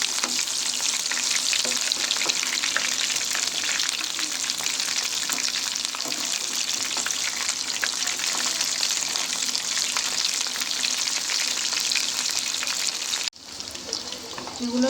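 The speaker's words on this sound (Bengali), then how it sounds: "এগুলো লাল করে ভাজা হয়ে গেছে" Battered chicken pakoras deep fry in hot oil in a wok, making a loud, continuous crackling sizzle close up that carries on for the whole stretch before briefly dropping near the end.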